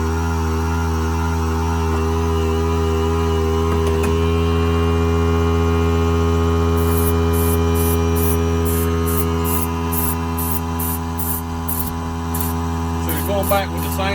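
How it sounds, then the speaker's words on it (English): An air compressor runs loudly and steadily in a fishing-lure painting workshop, giving a constant droning motor hum. Brief clicking and rattling sit on top near the end. "I gotta turn on the air compressor. Oh, it's loud"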